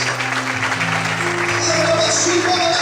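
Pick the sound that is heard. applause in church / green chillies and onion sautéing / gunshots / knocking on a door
applause in church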